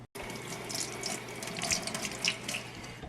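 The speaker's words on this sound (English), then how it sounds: "Always remember to wash your hands." Water runs steadily from a kitchen tap while hands are washed, a close, continuous splashing stream that starts abruptly with faint shifting splashes as hands move beneath it.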